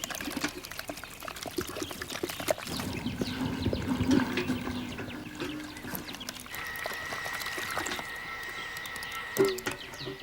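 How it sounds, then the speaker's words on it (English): A liquid mixture pours into an excavated ant nest covered in a protective layer of gypsum, a continuous gurgling flow that holds steady and shifts in pitch as the cavity fills, with no voices. "Then they could start pouring the mixture."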